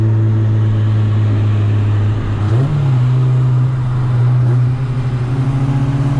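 A car in an Acura TSX versus K24-swapped Civic Si run pulls hard in third gear, its engine a loud, steady droning note that rises in pitch partway through, close to the microphone.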